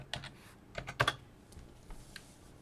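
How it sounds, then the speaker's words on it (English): Quiet keystrokes on a computer keyboard tap out in a few short, irregular clusters, soft and close with pauses between. "So let me type it in."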